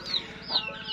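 Filipino chickens on a farm cluck and call softly at close range, short squawky notes rising over a low background.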